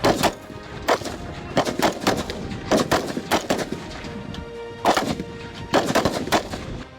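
Multi-barrel rocket launcher and artillery firing during an India-US military exercise in the desert, with a string of loud, sharp blasts in uneven bursts, some in quick pairs, ringing out with no talk.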